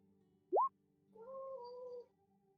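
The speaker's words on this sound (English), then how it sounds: "can't believe my cat is louder than my bird" A cat lets out a short rising chirp, then a longer drawn-out meow, close and clear against a quiet room.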